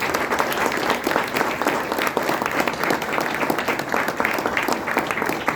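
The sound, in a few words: audience applause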